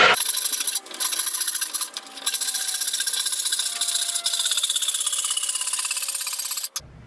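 A hand saw rasps steadily back and forth through wood in quick, even strokes, close and loud, pausing briefly a few times before stopping.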